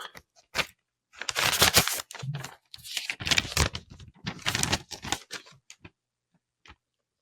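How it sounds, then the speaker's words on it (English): An envelope is torn open close by in several ragged bursts of paper ripping and rustling, with short pauses between, ending with a faint tap. "So let's tear open this envelope."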